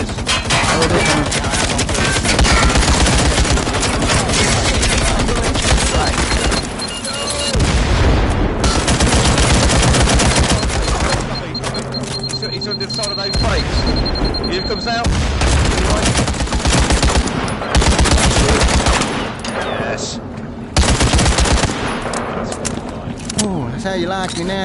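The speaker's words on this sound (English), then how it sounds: "Someone's shooting me now." Gunfire fills the VR shooter game Firewall Zero Hour: rapid automatic bursts and single shots crackle in loud clusters separated by brief pauses, with a player talking among them.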